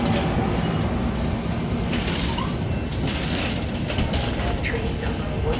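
A Metra commuter train rolls past a station platform, a loud continuous rumble with metallic creaks and squeals from the cars, with faint voices in the background.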